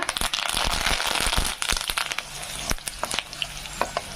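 Garlic fries in hot oil for eggplant thokku, a dense close sizzle and crackle with scattered pops and stirring clatter, no talk.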